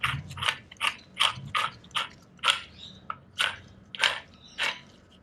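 A small socket-like drive shaft puller is turned onto a BMW 335i N54 axle shaft, giving a steady run of about a dozen close, crisp ratcheting clicks in an even rhythm, with no talking.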